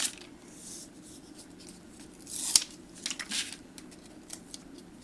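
Scissors trimming paper for a little girl's fairy memory book, a single quiet crisp snip with faint rustling, close and alone with no talk.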